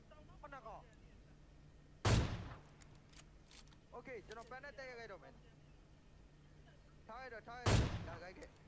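Two loud single gunshots, likely sniper fire in PUBG Mobile on the Sanhok map, a few seconds apart, cracking sharply over excited voices talking between them.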